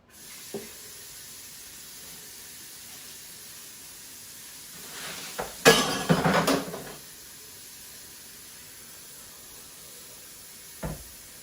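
Water rinses a Ninja Foodi Cold & Hot blender jar, still warm from its heating cycle: a quiet room, then a short splashing, hissing burst of running water lasting about a second and a half, with faint clicks before and after.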